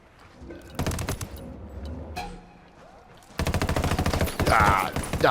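Automatic rifle fire in Ghost Recon Wildlands, from P416 or 416 rifles, with a short rapid burst, a pause, then a longer sustained volley of fast evenly spaced shots, loud and close, with brief speech in between.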